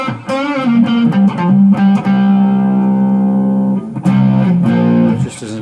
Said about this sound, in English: Kicking a distortion, well on overdrive.